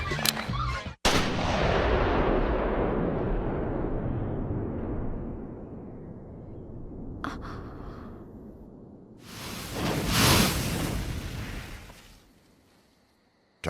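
Gunshots ring out in an animated episode, a sharp crack followed by a long, booming echoing tail, then another loud burst of gunfire that fades slowly into quiet.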